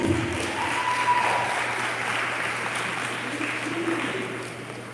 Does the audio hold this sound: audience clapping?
yes